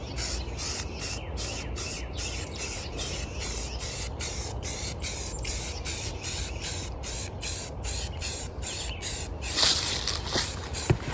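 Flat black spray paint hisses steadily from an aerosol can onto an AR15 rifle, a continuous close spray with rapid regular pulsing from short passes, ending in a few brief bursts.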